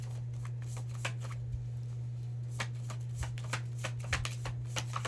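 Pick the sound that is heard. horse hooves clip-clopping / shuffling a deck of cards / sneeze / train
shuffling a deck of cards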